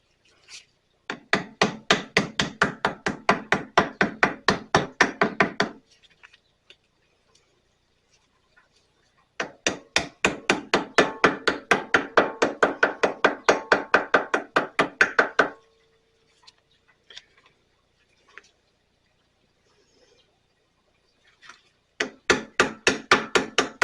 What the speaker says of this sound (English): this little ball peen hammer, it is a gasket hammer. It's shaped like a ball peen hammer, but it's got some sharp edges on it